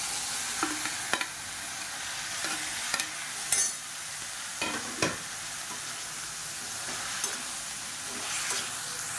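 Onions and chopped tomatoes sauté in a hot pan, giving a steady, close sizzle and frying hiss, punctuated by scattered scrapes and taps of a spoon stirring, with no speech.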